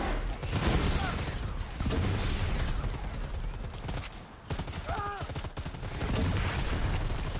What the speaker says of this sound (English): Oh, I hit him with the grenade launcher in the face!